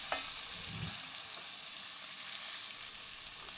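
Bone-in ribeye searing on its sides in a hot pan, a steady close broadband sizzle running the whole time with a few small pops and no voices.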